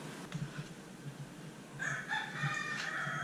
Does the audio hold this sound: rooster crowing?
yes